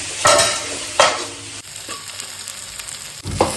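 Chicken masala fries in a pan while a utensil stirs it through the sizzle, with several scraping strokes rising over a steady frying hiss and no talk.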